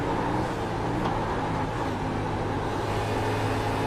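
Racing car engines in a sim racing game drone and whine steadily throughout, a dense continuous roar with no voices over it.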